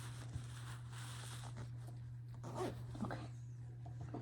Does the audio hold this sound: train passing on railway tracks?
no